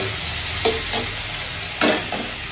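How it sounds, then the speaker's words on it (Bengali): Spice masala frying in a pan, a steady oily sizzle broken by a few sharp scraping stirs of a spatula, close and fairly loud with no talking. "মশলা কষানো চলছে"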